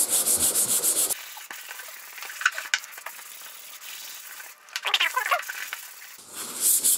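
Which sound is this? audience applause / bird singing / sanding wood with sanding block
sanding wood with sanding block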